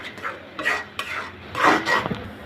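Carrot halwa made with powdered milk being stirred in a pot, with scraping spoon strokes and soft clinks coming in uneven bursts, close and moderately loud, with no voices.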